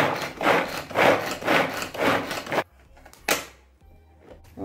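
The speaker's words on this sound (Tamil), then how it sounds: "இப்போ வந்து இந்த நான் வாங்கின கட்டரில் வெங்காயத்தை போட்டு எப்படி இதை ஸ்லைஸ் பண்ணுறது" Onions being sliced in a manual vegetable cutter in a home kitchen, giving several rhythmic rasping strokes up close, then a pause broken by a couple of sharp clicks and knocks.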